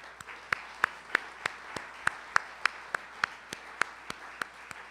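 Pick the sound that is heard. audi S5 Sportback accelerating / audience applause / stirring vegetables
audience applause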